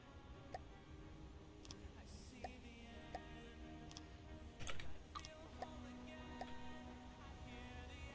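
Computer keyboard typing at a steady, moderate pace, with scattered clicks over a constant background hum from game sound, close to the mic and fairly quiet.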